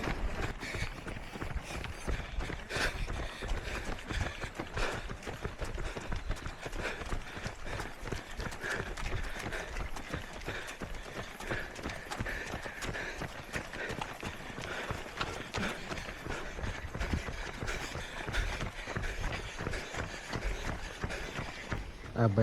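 Heavy, rapid breathing of a runner on an uphill stretch during a night run in the Cameron Highlands, steady and close throughout, with footsteps and rustling beneath it.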